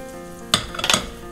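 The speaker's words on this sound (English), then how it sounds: "take a nice scoop pancake mix, dump it in the pan" Blueberry pancake batter scooped into a hot pan, a soft steady sizzle broken by a sudden splat and a couple of quick clinks from a utensil, close up, with no talk.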